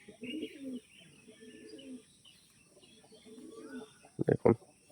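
Pigeons coo softly in low, murmuring phrases at a quiet level. Near the end, a closer bird makes three loud, sharp calls in quick succession.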